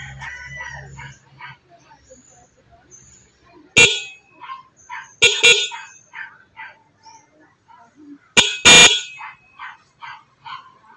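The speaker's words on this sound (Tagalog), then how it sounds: "Ganun lang po yung wirings ng dual horn with one relay. So, try na po natin siya." A dual car horn wired through a single relay gives three short, loud blasts at irregular intervals, each over quickly, separated by quieter rustling and faint background sounds.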